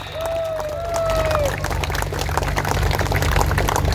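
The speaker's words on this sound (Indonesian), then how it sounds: "Yang depan, beri aplaus yang meriah." Applause and crowd noise from the audience at an Indonesian Labour Party rally, a steady broad roar with a low hum underneath. A brief rising and falling tone sounds near the start.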